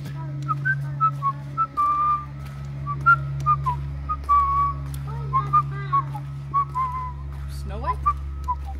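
A person whistles a tune in clear, wavering phrases of short and held notes, with steady low hum and faint background voices beneath.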